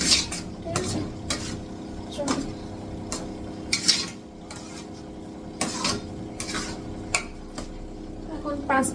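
A utensil scrapes and stirs semolina in a wok with irregular clinks and soft rasps over a faint sizzle, with occasional voices nearby.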